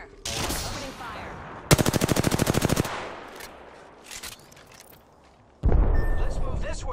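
Rapid automatic gunfire in the battle royale shooter Apex Legends: a loud, tightly spaced burst of shots, followed by a second heavy volley near the end, with quieter game sounds and voice chatter in between.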